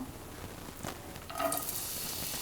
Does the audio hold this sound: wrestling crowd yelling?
no